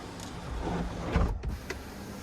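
A one-touch panoramic sunroof on a 2023 Lincoln Nautilus Reserve slides open with a steady electric motor whir, close and moderately loud, running smoothly for about two seconds with a slight bump near the end of travel.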